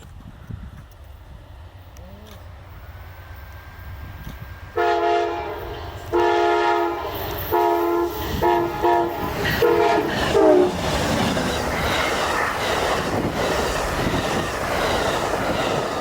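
Train 3 approaches semaphore signals in rural New Mexico: quiet open-air ambience, then a string of loud horn blasts, followed by the growing rumble and clatter of the train rolling past.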